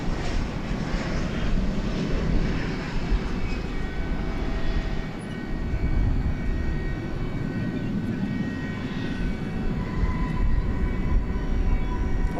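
An MD-11 widebody jet takes off at night at Dallas Fort Worth airport, its engines making a steady, loud, broadband roar that holds throughout with no talking.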